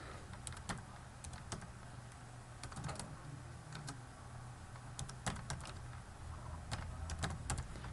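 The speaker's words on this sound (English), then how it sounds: "you just type in the email address" Fingers type an email address on a computer keyboard, faint clicky key presses arriving in short irregular bursts over a low background hum, no voices.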